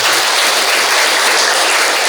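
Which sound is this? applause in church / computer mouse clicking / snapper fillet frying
applause in church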